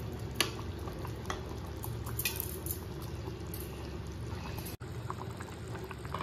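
Steady bubbling and simmering of chicken and potato curry cooking in a pot on the stove, close up, with faint clinks and a continuous low boil throughout.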